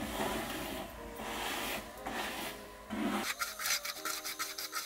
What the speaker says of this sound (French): Pour bien faire pénétrer le produit, je vais les brosser.